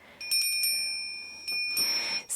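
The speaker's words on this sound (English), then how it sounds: "when I want to wake up my altar, I play my little llama bell" A small llama bell rung on a home altar, bright high-pitched chimes struck a few times close up, each ring sustaining and overlapping, with a final sharper strike at the end.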